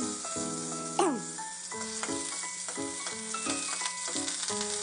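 Ginger hitting hot oil in a kawali gives a steady bright sizzle with a sharper burst near the start, running under tonal background music throughout.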